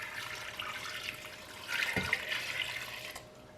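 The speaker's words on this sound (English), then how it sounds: "Then pour in 6 cups of water." Water pours steadily into a pot of corn cobs and bundled pandan leaves, a soft hissing splash that swells midway with a brief thud and then stops.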